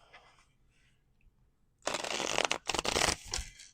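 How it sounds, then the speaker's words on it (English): A deck of cards is riffled and shuffled several times in quick crisp bursts, close and loud after a quiet opening, with no talking. "I think they want me to shuffle a couple more times."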